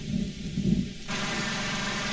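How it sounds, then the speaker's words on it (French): A thunderstorm in the Disney Planes video game, a low rumbling storm that gives way to a steady hissing wash of rain-like noise, with no talking. "Cette tempête est la pire que j'ai jamais vue."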